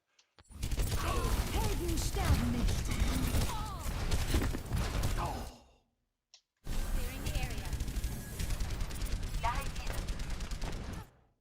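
Sustained automatic gunfire in Overwatch aimed at Reinhardt, a dense rattling stream of shots layered with game effects, pausing briefly mid-way before resuming.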